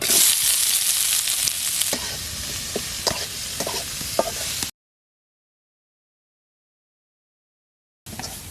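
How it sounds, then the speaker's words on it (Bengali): Onions fry in hot oil in a village kitchen pan, giving a loud, steady sizzle with occasional stirring clicks. The sizzle cuts to silence partway through, then briefly resumes. "পেঁয়াজটা ভেজে নেব।"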